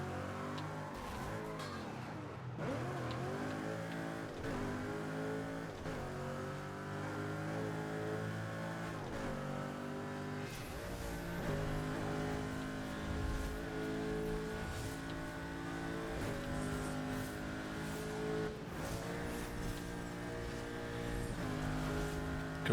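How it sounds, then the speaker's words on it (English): Car engine in the Burnout racing video game drones and revs continuously, rising and falling in pitch with gear changes and bursts of acceleration, fairly loud under a game soundtrack, without speech. "That's an engine noise."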